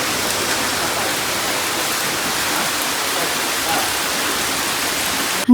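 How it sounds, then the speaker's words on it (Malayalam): Heavy rain pours steadily in Kerala, a dense unbroken hiss close by with no voices, ending in a sudden short knock. "അപ്പോൾ അതൊക്കെ കഴിച്ച് നല്ല മഴയാണ്"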